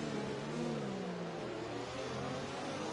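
McLaren Formula One car in F1 2020 at Monaco, its engine revving hard at full power, a loud high buzzing whine that shifts pitch downward midway as the car changes gear.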